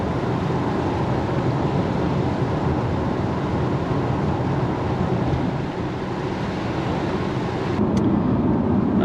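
A white 2013 Toyota Hilux fitted with a 3UZ engine climbing a hill, heard as a steady low engine drone mixed with road and wind rumble from inside the cab, unbroken for several seconds.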